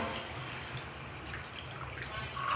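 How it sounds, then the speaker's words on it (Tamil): Water is poured into cauliflower gravy in a cooking pan, giving a steady, soft splashing wash that runs without pause and sits fairly quiet throughout. "இப்போ வந்து நான் இதுக்குள்ளே தேவையான அளவுக்கு தண்ணி ஊற்றிக்க போகிறேன்"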